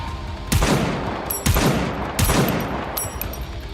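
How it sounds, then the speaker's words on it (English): A barrage of long-distance gunfire in the game Goddess of Victory: Nikke, heavy booming volleys landing about once a second over a constant rumbling wash of battle noise. "Unwa continues to unleash a barrage of long-distance shots"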